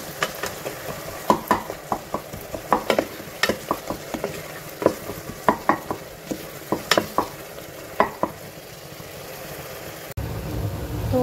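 Bottle gourd and green chillies frying in a pan, a steady sizzle punctuated by a rapid run of sharp spatula scrapes and taps, ending in a brief louder rush of noise.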